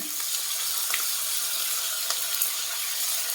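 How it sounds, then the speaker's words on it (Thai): Water pours steadily from a tap into noodles for pad thai, a continuous close hiss of running water with no voices. "เอาน้ำใส่หน่อยหนึ่งเพราะเส้นมันแข็ง"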